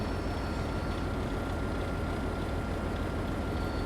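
A locomotive engine in the Railroader railway simulation game runs with a loud, dense, unbroken diesel roar that holds steady throughout.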